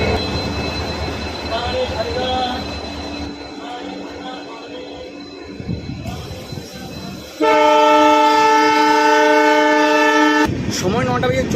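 A train pulls out of Sevoke station on the line toward Bhutan, with a low rolling rumble followed by one long, loud, steady horn blast of about three seconds, then the rumble of movement resuming up close.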